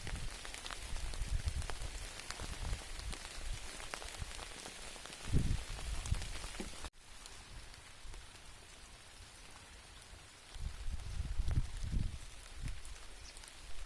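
Gentle summer rain patters steadily on roses and foliage, a soft constant hiss of drops with a few heavier spatters, alone and without voices.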